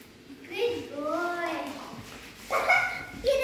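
A pet dog gives several close, yelping barks and whines that rise and fall in pitch, with a person's voice mixed in.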